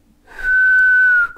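A person whistles one steady, clear note lasting about a second, close and alone with no talk.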